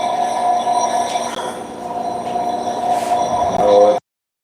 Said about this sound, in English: train station.